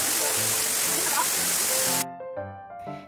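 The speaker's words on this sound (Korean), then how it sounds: "맑은 물이 암벽을 따라 떨어지는 모습이 매우 아름다운 폭포였습니다." Waterfall on Geumosan mountain in Gumi, clear water falling down a rock face, a loud steady rush for about two seconds before it cuts out, leaving quieter tonal sounds.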